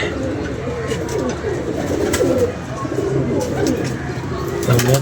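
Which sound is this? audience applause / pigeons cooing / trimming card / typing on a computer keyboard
pigeons cooing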